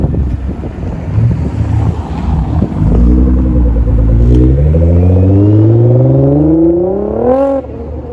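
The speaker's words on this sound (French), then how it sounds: "On va reprendre l'accélération de la GTR là." A Nissan GT-R accelerates past at a car-spotting meet, its engine note climbing steadily in pitch through the gears, loud and close, with wind buffeting the microphone.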